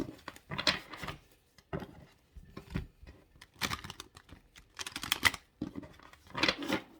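Tarot cards being shuffled in short bursts of riffling and tapping, a handful of quick papery flurries separated by brief pauses, close and fairly quiet.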